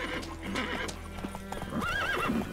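Roach, a horse in the video game The Witcher 3: Wild Hunt, gallops with rhythmic clip-clop hoofbeats, and a whinny rises near the end over faint game sounds.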